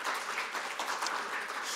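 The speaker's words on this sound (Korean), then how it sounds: "큰 박수로 환영해 주셨으면 감사하겠습니다" A seminar audience at a social welfare policy forum gives a short, fairly quiet burst of clapping, a steady patter of many hands heard at a distance.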